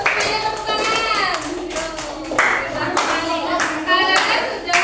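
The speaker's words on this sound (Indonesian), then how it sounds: "Yuk, semuanya tepuk tangan." A class of schoolchildren clap their hands together in a classroom, a loud, sustained patter lasting several seconds, with young voices calling out over the clapping.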